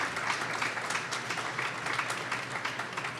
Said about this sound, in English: round of applause. Yeah, clap it up.